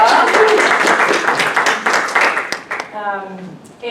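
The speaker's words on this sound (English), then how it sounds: "Let's give them a round of applause." Audience at a housing and healthcare panel applauding business school students, a burst of clapping that thins out and fades as a voice comes in over the tail.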